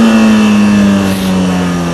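Motorcycle engine revving hard as the front wheel lunges up into a wheelie, a loud, steady, close droning roar with a strong low tone, no talk.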